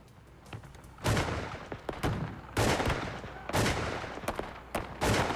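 Reenacted shootout from a 1985 Texas standoff, with loud gunshots crackling in repeated bursts and scattered single reports between volleys.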